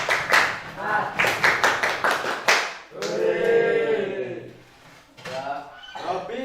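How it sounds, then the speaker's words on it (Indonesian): A group of scouts at a boarding school field activity performs a rhythmic spirit clap: a quick patterned series of sharp claps with chanted voices, then a drawn-out group shout and a few more claps. "tepuk semangat."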